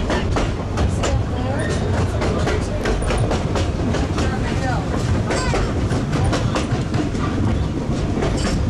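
Tourist train riding along a mining-district railroad track near Cripple Creek, Colorado, with steady rhythmic clickety-clack of wheels and continuous rolling rumble, close and loud throughout, people talking over it.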